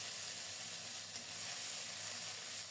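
Ground onion and green chili paste frying in hot oil, giving a continuous, even, close sizzle and hiss with no talk over it.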